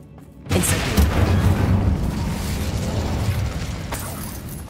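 The Incendio fire spell from Hogwarts Legacy bursts out with a sudden whooshing blast, then a sustained, rough crackling roar that slowly eases over several seconds.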